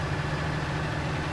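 A tractor engine idles in Farming Simulator 19, a steady low mechanical hum with a strong bass tone and constant vibration, loud and close, with no voices.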